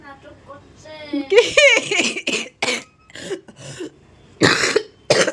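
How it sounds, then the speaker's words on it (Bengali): A woman with a bad cough coughs in a series of harsh, close bursts spread across the clip, with a short strained voiced sound before the first hacks. "এত কাশি হয়েছে বন্ধুরা, কাশতে কাশতে আমার বুকে ব্যথা হচ্ছে"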